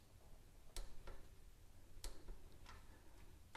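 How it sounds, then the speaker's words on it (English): A torque wrench clicks faintly a few times as it tightens bolts on an aluminum thermostat housing of a Honda Civic, sharp isolated ticks spaced about a second apart over quiet background. "Now I'm going to torque them. I'm at 86 inch-pounds"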